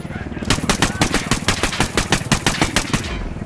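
Rapid automatic gunfire in the video game Ghost Recon Wildlands, a loud close burst of evenly spaced shots lasting about three seconds with voice chat faintly underneath.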